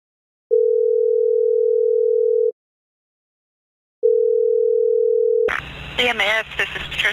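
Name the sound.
telephone line tone as 911 is dialed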